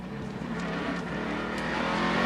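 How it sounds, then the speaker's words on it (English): A NASCAR race car engine holds a steady high-revving roar on throttle at a 2005 road-course race, loud and continuous through the short stretch with a slight swell toward the end. "Smooth on the throttle, you hear Ricky Rudd."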